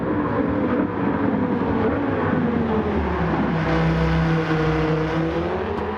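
A 2013 Dodge Viper GTS engine roars at full throttle in Gran Turismo 7, a steady loud race-car drone with the pitch rising and falling through gear changes, alone without talk.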